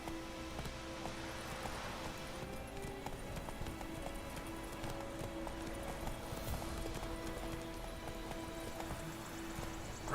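The horse Roach gallops in The Witcher 3: Wild Hunt, a rapid, steady clip-clop of hooves running continuously alongside faint in-game ambience and music tones, with no talking.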